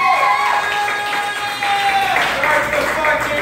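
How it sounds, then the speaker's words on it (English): At a Rocky Horror 43rd anniversary showing, the audience claps and cheers in a short, loud burst that carries on without a break. "Give them a round of applause, people."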